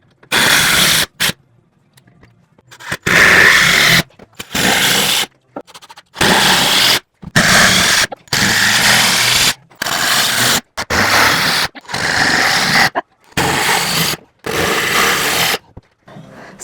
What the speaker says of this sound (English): So let's get this screwed into the wall.